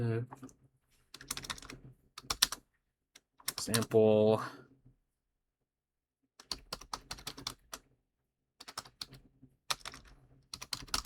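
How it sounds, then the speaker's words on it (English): Typing on a computer keyboard during a productivity livestream: scattered bursts of close clicks and clacks come in short runs between stretches of a person talking, with quiet pauses between. "Where was I typing again?"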